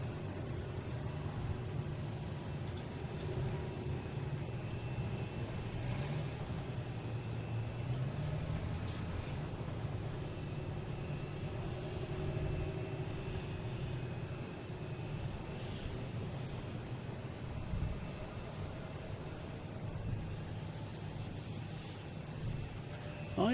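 Aer Lingus Airbus A321neo at Boston Logan International Airport, a steady distant jet engine roar and airport background hum, continuous and moderately faint.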